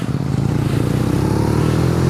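BMW R nineT boxer-twin motorcycle engine running steadily on a test ride, a continuous low throbbing drone with a slight rise in pitch, close and loud throughout with no talking.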